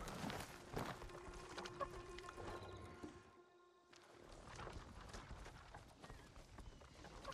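Horse hooves clip-clop in the video game Ghost of Tsushima, a steady trotting rhythm under game ambience and music, briefly dropping away midway before resuming.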